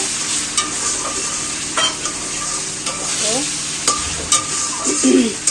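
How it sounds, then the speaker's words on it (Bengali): Biryani spice masala sautéing in a pot, a steady loud sizzle with repeated scraping stir strokes and occasional clinks of a spoon against the pan. "আর এই হচ্ছে বিরিয়ানির মশলা কষানো"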